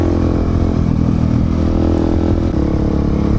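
A 2019 KTM 690 or Honda Africa Twin motorcycle ridden on dry tarmac, its engine droning loud and steady close to the microphone throughout, with wind rush and no pause.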